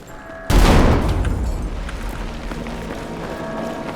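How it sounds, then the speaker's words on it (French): A grenade blast in the video game Battlefield 6 bursts with a sudden loud boom, followed by a long rumbling decay under continuing battle noise. "Grenade lancée"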